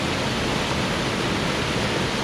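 A waterfall in a German valley pours with a dense, steady broadband rush, loud and unbroken throughout with no voices.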